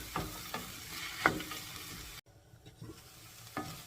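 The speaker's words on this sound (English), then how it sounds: "Now add your cashews as well. Stir them, close the lid and let them cook." Cashews cooking in a pan for a paneer butter masala, with a few spoon stirs and clinks over a soft sizzle, a brief drop in sound partway through, then more stirring.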